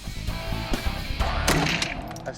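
A gunshot fired through a gun barrel bent at 135 degrees, heard as several sharp cracks and bursts over a noisy outdoor background, with one stronger blast in the middle.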